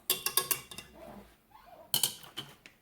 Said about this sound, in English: I'm going to get my chopsticks. I'm going to stir it up a little bit.